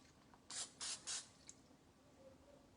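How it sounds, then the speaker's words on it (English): Cooking spray released into a mug in three short hissing bursts close by, followed by a faint click, then near silence. "I'm going to just spray it a little bit in here."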